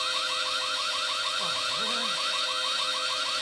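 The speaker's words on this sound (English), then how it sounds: "causing an electrical surge that sets off the building's fire alarm" Building fire alarm blaring in a film scene, a loud continuous electronic siren with rapid, regularly repeating warbling pulses over a steady high ring, filling the whole stretch without pause.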